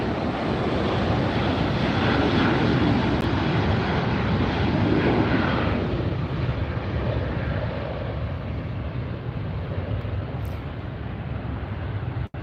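An Emirates Airbus A380 airliner at LAX roars past close by, a loud, broad engine rush that peaks in the first half and then slowly fades as it moves away, with no talk.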